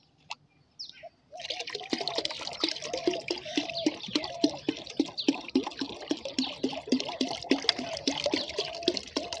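Water is poured into a thick mustard cake fertilizer mix in a bucket. After a brief quiet start, a close, continuous splashing pour gurgles and churns steadily to the end.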